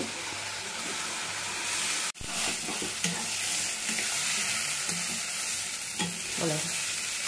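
Taro and coconut paste being stirred and fried in a pan, a steady loud sizzle with scraping stir strokes throughout and a brief dropout near the start.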